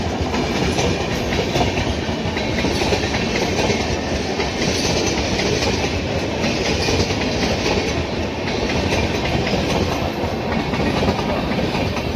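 A local commuter train on the Velachery–Tambaram route in Chennai runs steadily along the rails, its constant rumble and rhythmic clickety-clack heard from inside a carriage, with no voices.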